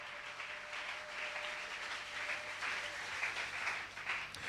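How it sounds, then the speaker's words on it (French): A congregation in a church applauds together, producing a steady, dense wash of clapping that goes on without a break and sounds somewhat distant and soft. "Acclamons fortement pour le Seigneur Jésus."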